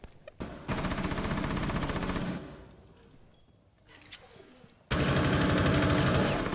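Automatic gunfire in a Rainbow Six Siege match replay, two long sustained bursts of rapid shots separated by a quieter gap with a few faint sounds, loud and close.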